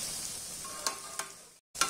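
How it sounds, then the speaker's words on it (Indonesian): Tofu and tempeh fry in hot oil, a steady close sizzle with a few sharp scraping stirs, a brief total cut near the end before the sizzling resumes. "Untuk menggoreng tahu dan tempenya nggak perlu lama-lama ya"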